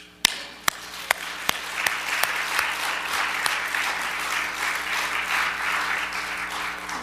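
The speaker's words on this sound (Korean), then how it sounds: "영광의 박수 올려드립니다" A church congregation at a seminar claps in applause, opening with several sharp isolated claps that build into steady, sustained clapping from many hands.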